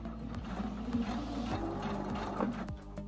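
A sewing machine runs a short back stitch on a straight seam, its steady motor hum broken by rapid rhythmic needle clicks, close and moderately quiet with no voices.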